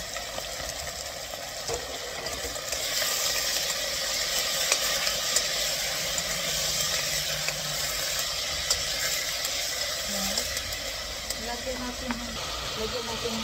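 Snapper grilling over heat, a steady broadband sizzle and hiss running throughout at close range, with faint clinks and background activity.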